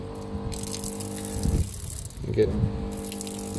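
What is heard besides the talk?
on-board water pump pumping water flow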